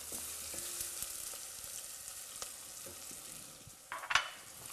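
A jackfruit curry base with turmeric and tomato sizzles gently in a pan while a spoon stirs it, soft scraping and frying hiss with a brief louder clatter near the end.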